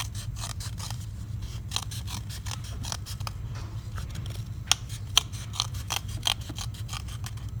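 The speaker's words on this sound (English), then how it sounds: "I need to cut this cup a little bit more." Scissors snip the cup of a face-bow transfer jig, a quick series of sharp, close clipping cuts over a low background hum.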